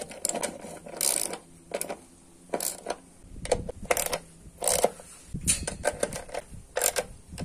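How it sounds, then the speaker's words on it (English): Six nuts being tightened on a Proton Saga Iswara wiper mount beneath the windscreen, with close, irregular metallic ratcheting clicks and taps in short bursts, no speech. "Tighten all the 6 nuts holding the wiper mount."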